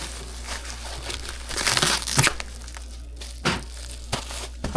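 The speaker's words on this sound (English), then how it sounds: "I'm gonna go ahead and wrap up these extra flaps with some stretch wrap." Stretch wrap pulled and wound around the loose flaps of a cardboard shipping box, giving close crinkling and crackling bursts with a louder stretch in the middle and sharp snaps after it, no voices.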